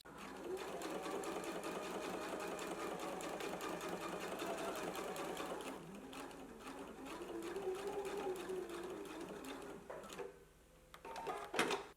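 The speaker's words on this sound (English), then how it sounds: "we can go to the sewing machine and we're just going to top stitch right here along the top" Domestic sewing machine top stitching along the folded edge of a garment pocket, a soft steady rapid needle chatter running continuously before slowing and stopping, with quiet talk over it.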